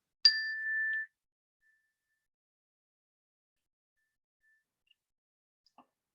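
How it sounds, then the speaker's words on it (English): A meditation bell rings once during a gentle yoga class, a single clear strike that rings on for about a second and fades into near silence. "And then I'll ring a bell and I invite you to listen in"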